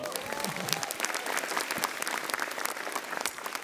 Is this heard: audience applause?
yes